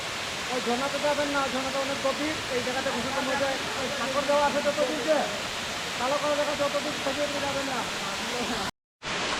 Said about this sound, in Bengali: আজকে আমরাই প্রথম ঝর্ণায় আসছি